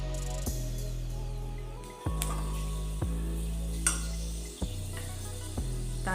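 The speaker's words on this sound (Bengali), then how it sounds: "এবার এই তেলে আমি কয়েকটা মেথি দিয়ে দিচ্ছি।" A few fenugreek seeds sizzle in hot oil left from frying pointed gourd, a faint, steady crackle under a low humming drone. A few brief pan knocks interrupt it, with no talking.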